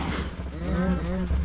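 Cows moo in the Minecraft Feed the Beast video game, a few drawn-out, mid-distance lowing calls that overlap one another against a steady background.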